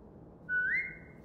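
A single rising whistle from a character in The Walking Dead video game, a clear pure tone that slides upward and holds for about half a second over quiet background ambience.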